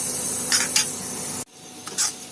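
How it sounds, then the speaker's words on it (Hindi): Semolina roasts in a pan while being stirred, soft rasping scrapes over a low background hiss, broken by a sudden cut midway before more brief stirring strokes. "इस तरह से हम सूजी को चलाते हुए भूनेंगे।"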